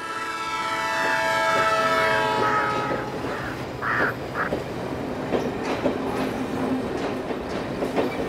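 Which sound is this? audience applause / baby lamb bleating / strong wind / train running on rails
train running on rails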